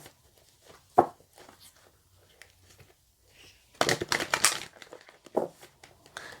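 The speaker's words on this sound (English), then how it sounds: "let's just give them a shuffle" Tarot cards are shuffled by hand close up, a few sharp riffling bursts and soft crinkling sounds separated by quiet pauses.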